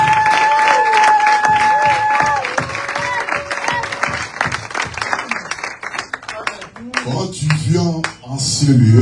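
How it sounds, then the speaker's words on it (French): A church congregation claps along during a bilingual French and English worship service, rhythmic hand claps mixed with sung voices and crowd sound, lively and close, with a voice speaking near the end. "We may clap for the Lord."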